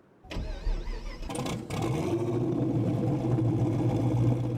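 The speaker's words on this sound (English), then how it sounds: "why don't we go ahead and start this thing up, because it sounds really, really good" A big truck engine in the video game SnowRunner cranks and catches, then settles into a deep, rumbling idle that grows slightly louder, with no talking.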